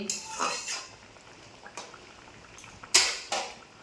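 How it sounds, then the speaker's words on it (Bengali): Cashews and raisins go into a pot of cooked papaya chutney, giving a few light clattering drops and spoon-against-metal scrapes, close and without talk. "এই যে কাজু আর কিশমিশ দিলাম, এই যে কাজু দিলাম আর কিশমিশ দিলাম।"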